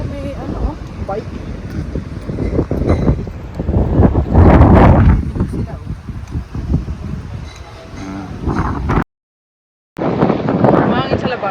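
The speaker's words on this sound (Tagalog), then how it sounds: "Mahangin sa labas." Strong wind buffeting the microphone outdoors near Malaga, Spain, gusting loudly and unevenly, with people talking underneath and a brief dropout near the end.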